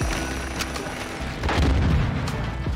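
An explosion in the video game Modern Warfare 2, with a few sharp cracks early on and then a deep, louder rumbling boom that swells and lingers near the end.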